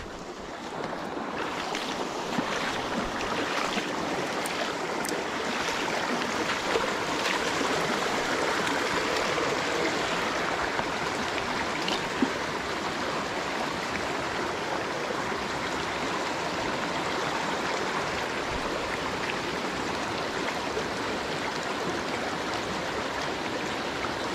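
A small, knee-deep mountain stream rushes over rocks in a steady, broadband burble that stays loud and unbroken throughout, with no voices.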